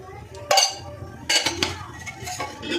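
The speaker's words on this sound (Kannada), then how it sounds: "ತುಪ್ಪ ಹಾಕ್ಕೊಂಡು ಮಿಕ್ಸ್ ಮಾಡ್ಕೋಬೇಕು" A spoon clinks and scrapes against a pot while stirring ghee into moong dal payasam, a few sharp metallic knocks among softer stirring sounds, close and fairly quiet.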